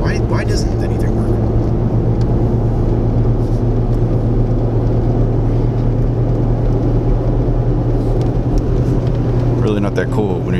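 Inside a 4x4 overland vehicle driving through town in Moab, a steady, loud engine and road drone holds throughout with a constant low hum and no clear breaks.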